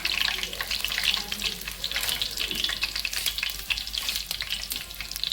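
Garlic, cumin and curry leaves sizzle in hot oil with a continuous close crackle and spitting, and a few light stirring scrapes. No one speaks.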